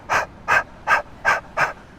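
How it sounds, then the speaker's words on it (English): Breath of fire yoga breathing: five sharp, rapid exhales pumped from the navel, evenly spaced and close, with short pauses between each forceful puff. "we're going to do breath of fire"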